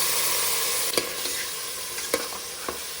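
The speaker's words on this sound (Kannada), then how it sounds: "ಈಗ ಇದಕ್ಕೆ ಈರುಳ್ಳಿ ಪೇಸ್ಟ್ ಹಾಕೊಳ್ತೇನೆ." Onion paste frying with ginger garlic paste in a hot pan, a steady loud sizzle with a few stirring scrapes and clicks of a spoon, no talking.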